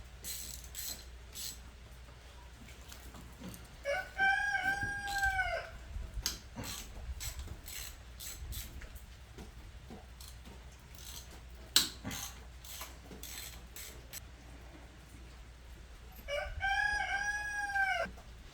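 A rooster crows twice, at the start and again near the end, loud and close, over a steady low mechanical hum with scattered clicks and clucking from a few chickens in between.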